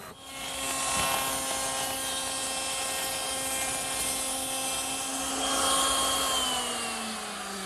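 A power screwdriver or drill drives screws through the top frame of a barrister's bookcase, its motor whining as one steady high-pitched run that swells and eases, close and alone without talk.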